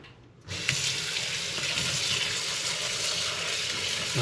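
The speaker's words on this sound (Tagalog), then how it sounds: "Ilalagay niya sa strainer at saka niya patutuluan ng mainit na tubig." Hot water streams from a tap over leafy vegetable shoots in a strainer while cooking pinakbet, a steady close rush of splashing water that starts abruptly and continues without talk.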